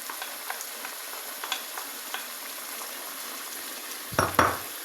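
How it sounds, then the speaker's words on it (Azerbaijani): Onion and garlic frying in a pan while chicken offal is cooked with potatoes, a hiss of sizzling under scattered stirring clicks, then a louder scrape and burst of sizzle near the end. "İndi deməli bura soğanımızı əlavə edirik və sarımsağımızı"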